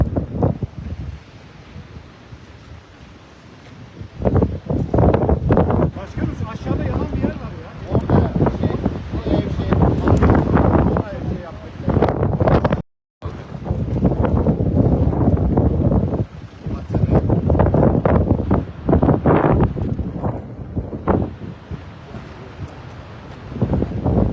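Very strong wind gusts batter the microphone on a forested mountainside during a wildfire in Muğla, with loud continuous roaring and buffeting in long surges, one short dropout, and voices partly heard beneath.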